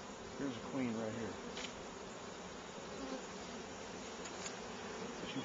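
Honeybees swarm and buzz around an open hive during a bare-handed hive inspection, a steady, dense insect drone that fills the whole stretch, with faint voices briefly underneath.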